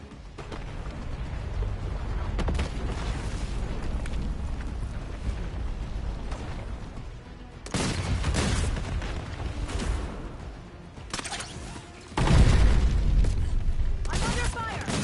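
Gunfire and explosions rage in a shooter video game, with repeated loud booming bursts and sustained rumbling blasts across the stretch, a voice talking over parts of the battle.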